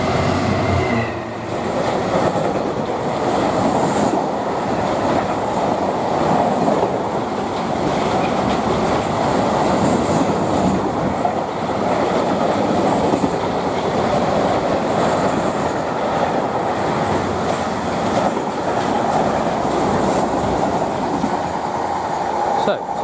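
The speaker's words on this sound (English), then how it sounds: "We'll start with the freight that is imminently arriving." A Class 66 locomotive hauls a Halewood to Southampton freight into Tamworth station on the West Coast Main Line, giving a continuous loud rumble and clatter of wagons rolling past.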